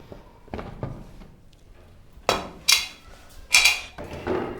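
Pressure cooker being opened after cooking steamed beef: a series of sharp metallic clanks and knocks as the lid is handled, about five distinct hits, close and fairly loud, preceded by quieter clicks and rattles.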